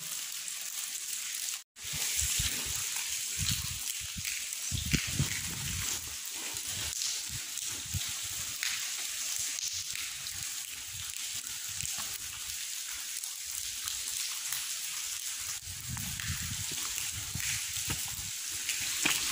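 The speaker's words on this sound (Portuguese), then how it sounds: "Aqui parece que tá chovendo aqui dentro, pessoal." Inside a railway tunnel on a descent down the mountains, water streams down the walls with a steady rain-like patter and splash. A dense, unbroken hiss of dripping and running water echoes close by for the whole stretch.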